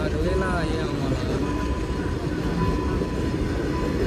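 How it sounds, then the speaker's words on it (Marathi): A train pulls in at a level crossing gate on the way to Raigad Fort, its steady rumbling roar filling the scene while people talk over it. "ट्रेन आलेली आहे."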